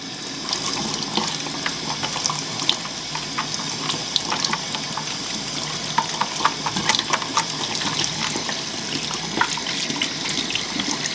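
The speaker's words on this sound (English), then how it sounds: "You also want to rinse out the inside of your chamber here." Running water rinses out the inside of a Fluval FX6 aquarium canister filter chamber, a steady close splashing spray with small irregular spatters throughout and no talk.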